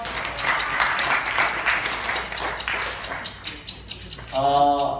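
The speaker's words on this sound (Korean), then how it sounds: "12시간이래요. 12시간. 박수." A middle-school church group at a year-end gathering claps for about four seconds, a moderate patter of applause, before a voice comes in near the end.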